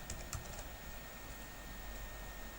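Quiet, steady typing on a computer keyboard, soft rapid key clicks running throughout at low level with no talk.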